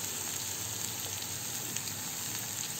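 Masala with Kashmiri chili powder, turmeric and salt sautés in a pan for a pomfret fish curry, giving a soft, steady sizzle and hiss that continues evenly and quietly.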